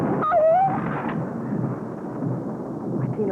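Deep, rolling thunder rumbles in a low, sustained wash through a 1930s film scene, loud at first and then fading, with a brief high-pitched voice near the start.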